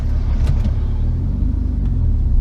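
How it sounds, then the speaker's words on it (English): A manual stick-shift car pulls out onto a main road, its engine a steady, loud, low rumble heard from inside the cabin, with no talking. "let's get out on the main road and accelerate"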